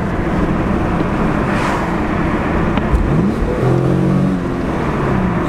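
An Infiniti G37 S Coupe accelerates hard, its engine revving with a rising whine and a loud, close, rough road rumble under it across the whole stretch.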